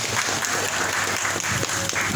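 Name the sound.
talk show participants clapping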